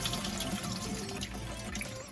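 Rice is washed under running tap water, a close, continuous splashing and trickling that fills the whole short stretch without voices.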